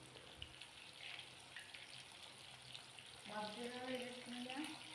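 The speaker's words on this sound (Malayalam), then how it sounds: "എന്നിട്ട് ചൂടായ എണ്ണയിലേക്ക് ഇട്ടിട്ട് ഒന്ന് പൊരിച്ചെടുക്കുക." Chicken pieces coated in cornflour frying in hot oil give a steady, close crackling sizzle, joined partway through by a tonal hum in the background.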